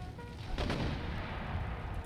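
Mortar artillery fire in the battle game Empire: Total War, a deep rumbling boom that swells and lingers against dense low battlefield noise, with no speech.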